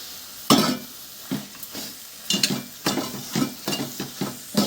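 Washed mutton keema is sautéed in a pan, with repeated scraping strokes of a spoon against the metal over a light sizzle, in irregular bursts of stirring at close range.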